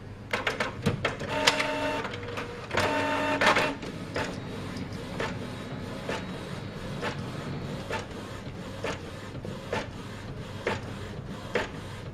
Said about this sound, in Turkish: Denemek için bir adet renkli fotokopi çekelim